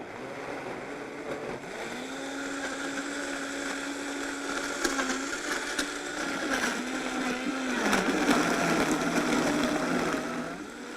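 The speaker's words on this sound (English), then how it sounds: "Now we're just going to turn on our high-speed blender." A high-speed blender whirs steadily as it purées greens into a frozen lemon-lime sorbet, its motor tone holding level then dipping slightly as the load shifts, loud and continuous with no talking.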